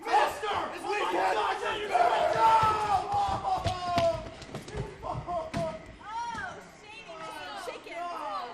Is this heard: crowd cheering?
yes